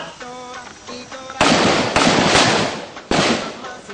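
Rifle shots at a shooting range target, two sharp loud cracks with ringing tails a couple of seconds apart, after a brief stretch of voices and low hum.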